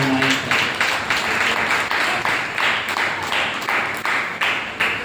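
A church congregation claps in steady rhythmic unison while praising the Lord, the handclaps loud and close with a faint murmur of voices beneath them.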